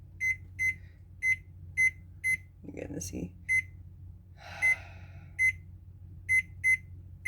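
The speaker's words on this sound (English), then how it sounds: "we're going to set our timer for 10 minutes to rest" Kitchen timer being set while making homemade cinnamon rolls, sharp short beeps repeating at an uneven pace, each key press a bright chirp, with a person talking and some kitchen handling noises in between.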